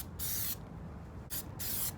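Plasti Dip spray paint hisses onto a car wheel in two close, short aerosol bursts with a brief pause between them.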